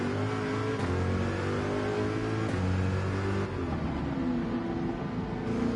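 In Gran Turismo 7, a car's engine drones loud and steady, then the pitch drops partway through as it slows before picking back up.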